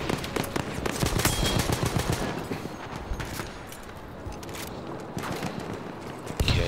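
A light machine gun fires in Battlefield 1 multiplayer, rapid sustained bursts of loud automatic shots with sharp repeated cracks, thinning into sparser distant gunfire midway before a heavy burst returns at the end.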